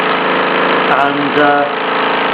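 A 1969 Mamod SE3 toy steam engine runs with a steady, even mechanical chuff close by, continuing throughout under a brief spoken word.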